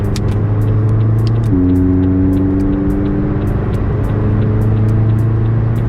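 A McLaren 600LT engine on a warm-up lap drones steadily and loudly from close by, its pitch stepping up once and settling back, under a constant rumble with no voices.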